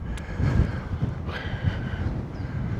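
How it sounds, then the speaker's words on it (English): Steady wind rushing across the microphone, a continuous low buffeting rumble with gusts rising and falling, no voices. "Quite windy though."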